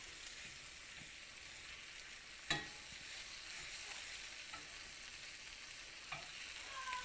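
Beef sizzles and browns in a pan for a broccoli, snow pea and mushroom stir fry, a steady close hiss with occasional scrape and clack of stirring, no talking.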